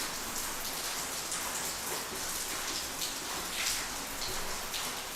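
Steady rain falls outside an open office window, a dense even patter of drops on surfaces that fills the space, moderately loud and continuous with no voices.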